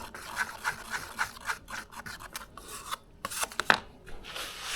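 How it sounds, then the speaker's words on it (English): Builder's bog filler being stirred and scraped while mixed for a plastic-toy swimbait, an irregular run of close, raspy scraping strokes with brief pauses and a sharper knock near the end, no talking. "So I'm using this builder's bog again. Give him a mix."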